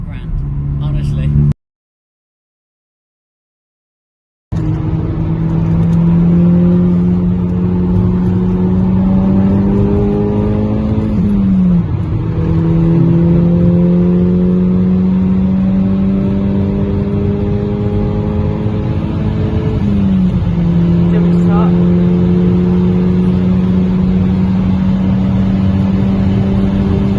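A Stage 2 Mk5 Golf GTI tuned to 275 bhp accelerates hard through the gears, the engine climbing steadily with brief dips at each shift, loud and close from inside the car, with a person talking over it.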